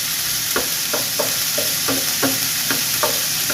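Onions sauté with browned garlic in a pan for a pork and Baguio beans dish, a close steady sizzle broken by a run of regular spatula scrapes.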